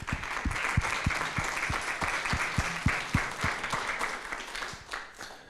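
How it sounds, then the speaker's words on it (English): An audience at a youth and family recovery talk gives a round of applause, a moderate patter of many hands with several distinct nearby claps standing out, fading toward the end. "I would like to give her a round of applause too"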